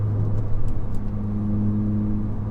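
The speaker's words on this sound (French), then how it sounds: "celle-ci elle possède une ligne qui bourdonne assez dans la voiture parce qu'on n'a pas de silencieux" Steady low exhaust drone inside a Volkswagen Golf 7 GTI Performance with a full straight-pipe line and no silencer, a constant booming hum filling the cabin with a brief swell of engine revs early on.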